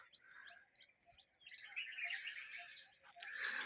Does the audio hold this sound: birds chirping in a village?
yes